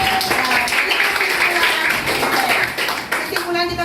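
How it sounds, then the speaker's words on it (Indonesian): Students in a classroom clap for a classmate during a math lesson on integers, a short burst of close, loud handclaps mixed with children's voices and chatter. "Tepuk tangan untuk Bintang"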